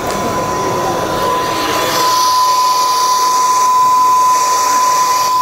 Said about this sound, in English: it's milling some legend work, our logo